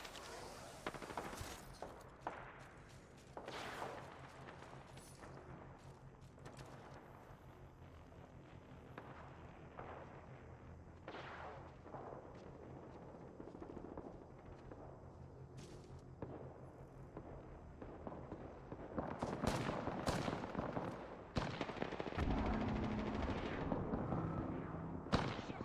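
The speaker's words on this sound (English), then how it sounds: "Somebody's getting bombarded over there." Distant gunfire and explosions from the Apex Legends battle royale game, faint bursts of rapid shots and dull booms rumbling far off, growing denser and louder toward the end with no talk over them.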